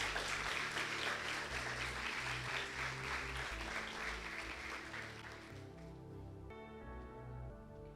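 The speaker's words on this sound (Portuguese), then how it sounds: "vamos recebê-lo com uma salva de palmas." A church congregation applauds as a pastor is welcomed, loud dense clapping filling the room for about five seconds before thinning out as music with sustained tones takes over.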